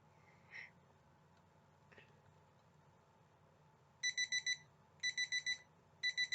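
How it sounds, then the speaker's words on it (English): An alarm clock sounds in repeated beeping bursts of four quick electronic pulses each, three groups in close succession after a few quiet handling clicks, near and clear. "Did you hear the alarm?"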